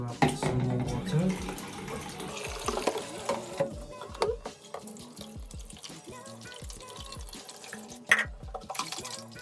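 Water runs and splashes as the Thomas Perfect Air vacuum's container is filled, with clattering of plastic parts and drips at close range, busier at the start and settling into quieter trickles.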